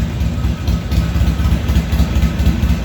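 A Harley-Davidson XR1200 motorcycle engine idles with a steady, deep, rumbling throb, loud and close, running continuously without any talk.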